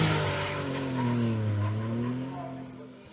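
BMW M3 E36 Group N production race car on a hillclimb course at Marchampt en Beaujolais, its engine droning steadily with rising and falling pitch as it accelerates past, loud and continuous throughout.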